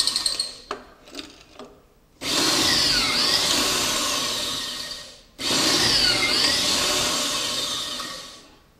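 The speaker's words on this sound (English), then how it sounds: "So we're getting ready to cut the pocket hole screws in the bottom of each of these pieces." A drill spins pocket holes into wood trim through a Kreg jig, two long loud whining bursts after a few short taps, close up and without talk.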